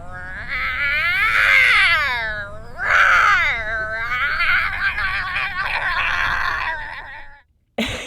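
A person imitates a lion's roar outdoors on a late summer night in Forest Park, producing long, wavering, yowling cries that rise and fall in two big swells and then trail off, loud and close.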